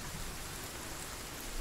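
Steady rain in the video game Sons of the Forest, a dense continuous hiss of falling drops with even loudness throughout, no talk over it.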